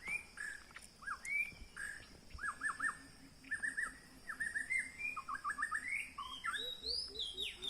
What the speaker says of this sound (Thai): เป็นนก บินหลาดงครับ